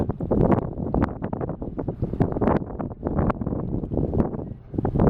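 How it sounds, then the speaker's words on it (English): Strong east wind buffets the microphone in continuous loud gusts at Fort Pierce, Florida, a rough roaring rumble with no voices. "You can hear the wind over my right shoulder coming out of the east."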